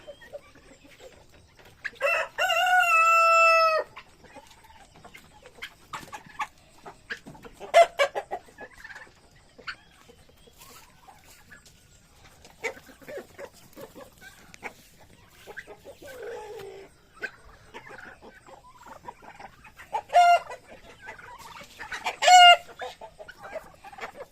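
Turkeys call outdoors on a free range: a loud crow-like cry early, scattered clucks and gobble-like chatter throughout, then two more loud calls near the end.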